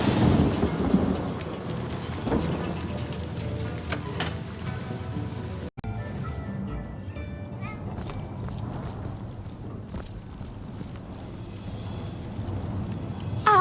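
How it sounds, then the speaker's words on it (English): Heavy rain pours down with deep rumbles of thunder rolling beneath it, a rain spell in the video game Divinity: Original Sin, a loud, continuous storm with a brief cut partway through. "Water, rain down!"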